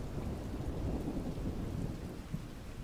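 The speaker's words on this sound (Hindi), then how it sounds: "इतनी तेज बारिश हो रही है" Heavy rain pours in a steady, dense roar with deep thunder rumbling beneath it, loud and continuous from start to finish.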